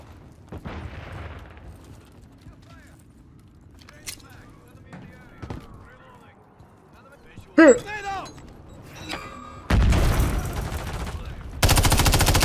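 Automatic weapon fire in the Modern Warfare III beta, a first-person shooter game, erupting as loud, dense sustained bursts in the final few seconds after quieter game ambience, with voices talking over it.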